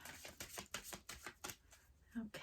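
A deck of cards is shuffled by hand in a series of quick riffling bursts with short gaps between them, close and fairly quiet, and a faint voice can be heard near the end.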